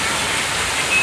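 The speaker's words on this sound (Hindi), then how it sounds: "और ये देखिए झरना" A waterfall roars with a steady, dense rushing hiss, close and unbroken for about a second, with no voices.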